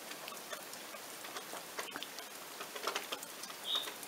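Steady light rain patters with scattered soft taps where wild pigeons gather on a roof in Montcuq, France, and a brief bird call rises near the end.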